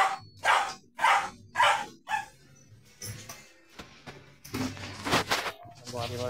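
An angry dog barks repeatedly in a rhythmic series of loud, close barks, followed by more scattered barking and growling mixed with people talking in the background.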